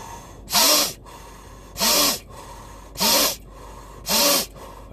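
Deep rhythmic breathing during a meditation exercise, four strong breaths at about one-second intervals, each a loud airy rush with a short gap of quiet between them, close to the microphone with no talking.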